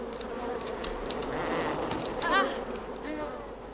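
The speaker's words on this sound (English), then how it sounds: "You come up here and you've got this wooden bridge here, and there are some bees here" Bees in the video game ARID hum in a continuous, wavering swarm near a wooden bridge, with buzzing that swells and fades as they drift close.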